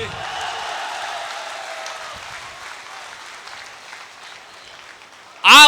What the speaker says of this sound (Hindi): आपने अपने हिंदू परिवार के मुखिया के जवाब पर तालियां दी